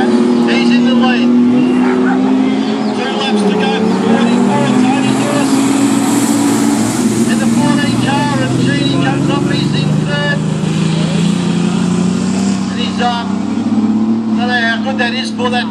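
Sports cars race around the Mt Beauty Speedway track in Victoria, one misfiring on only a few cylinders, their engines droning and revving loudly and continuously while a commentator talks over them.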